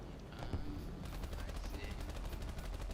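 Rapid video game gunfire rattling in a steady stream, moderately loud, with a voice speaking briefly over it.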